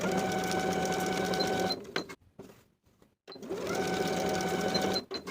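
A sewing machine stitches the shoulder seams of a linen shift dress at a 3/8 inch seam allowance, with a loud steady mechanical whir in two bursts separated by a brief quiet pause, close up and without speech.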